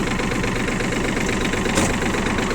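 A small Japanese mini tractor engine idling steadily and loudly up close, with a constant rattling, chugging drone throughout.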